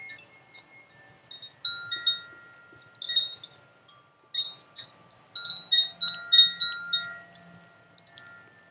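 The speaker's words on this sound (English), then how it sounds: "while I play the wisdom of the chimes" Wind chimes ring in scattered, delicate bursts of bright metallic tones, played by hand in a quiet setting, with gentle pauses between clusters and lingering shimmer.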